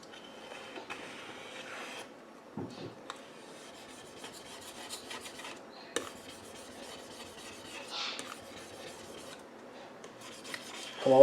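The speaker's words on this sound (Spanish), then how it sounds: "Y ahora sí ya podemos empezar a raspar." Soft rasping scrapes of a blade working across a glass-ceramic cooktop wetted with vinegar, quiet and intermittent with small knocks.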